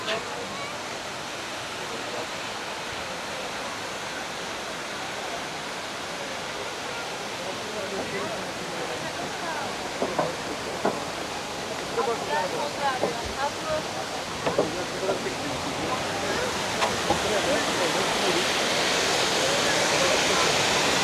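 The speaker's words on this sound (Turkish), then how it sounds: "Evet, şelalenin olduğu yer böyle." A steady, broad rush of falling water at Sütüven Waterfall in Edremit, Turkey, fills the whole stretch, with people talking quietly underneath.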